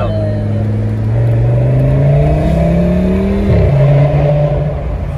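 An Audi RS6 with a V10 engine revving hard close by, pitch climbing steadily as it accelerates, a brief dip at a gear change, then pulling again with a deep sustained roar.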